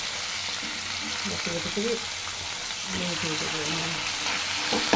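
Bhakur fish marinated in mustard, garlic and green chili masala sizzling and frying in oil, a steady close crackle throughout while a person speaks quietly underneath.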